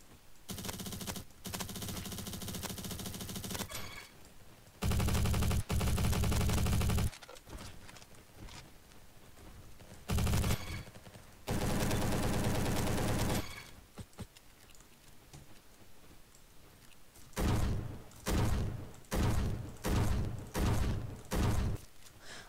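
Gunfire from a gun in an FPS shooter game, heard as repeated loud bursts of automatic fire separated by short pauses, with a rapid, tightly spaced string of shots near the end.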